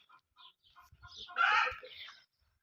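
Chickens cluck in a short, scattered series of calls, with one louder, denser burst of clucking in the middle, fairly close.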